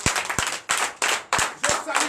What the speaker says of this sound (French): Donnez de vive acclamation.